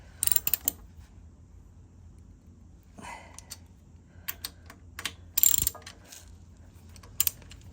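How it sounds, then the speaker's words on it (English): Guard bolts on a 2024 Lowrider ST motorcycle are tightened with a ratchet, giving short clicking bursts and a few louder metallic clacks between quiet pauses, close by, with no talking. "I'm just going to tighten them up as much as I can."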